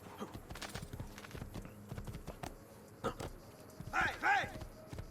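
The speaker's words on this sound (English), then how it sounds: "there probably is a random horse here and there" Horse hooves clip-clopping in Assassin's Creed Ezio Trilogy, a steady walking rhythm close by, with a couple of louder snorts or whinny-like sounds near the end.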